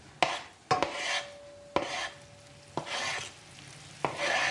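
Anchovies sizzling in a hot pan with a few sharp scraping stirs of a spoon against the pan, soft frying hiss between the strokes, no talking.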